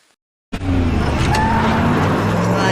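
A car in a film scene, stalling on the road: after a moment of silence a loud engine roar bursts in and holds steady, with a thin tire squeal running through it.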